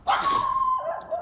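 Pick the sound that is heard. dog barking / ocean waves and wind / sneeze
dog barking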